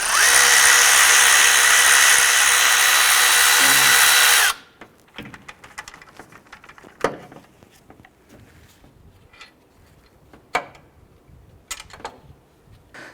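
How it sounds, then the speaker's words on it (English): A power tool whirs steadily for about four seconds while it works on the upper alternator pivot bolt of a 2001–2005 Honda Civic, then stops, followed by scattered metallic clicks and taps. "Let's go ahead and remove this upper pivot bolt."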